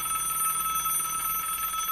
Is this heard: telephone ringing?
yes